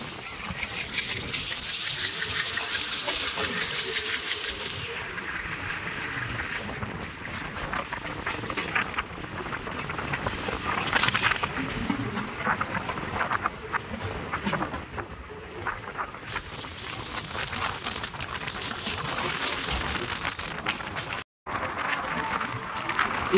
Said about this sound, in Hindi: इस वक्त हमारी ट्रेन जालना और सारवाड़ी रेलवे स्टेशन के दरमियान में चल रही है।